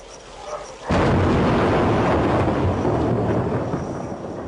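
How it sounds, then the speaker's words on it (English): A sudden massive blast from the 1991 Bekilo Bet explosion in Ethiopia erupts into a loud, sustained roaring rumble that slowly fades over several seconds, like a huge distant explosion. "it must have been one of the biggest explosions ever in Africa"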